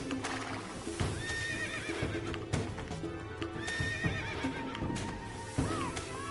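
Horses whinnying and neighing in the game Tetris Effect, several rising and falling calls repeated over steady clip-clopping hooves and a musical backdrop, fairly close and clear, with no talking.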